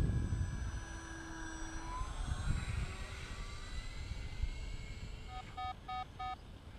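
A Hobby King Hall Cherokee electric ducted fan RC plane flies past, a thin whining fan tone sweeping in pitch over outdoor wind noise, with a few short electronic beeps near the end.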